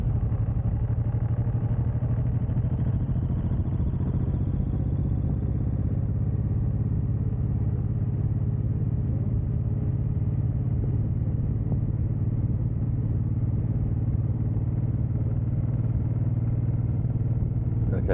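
A Suzuki M109R cruiser motorcycle rides along country roads with a steady, deep engine rumble and wind noise that hold unbroken from start to finish at close range.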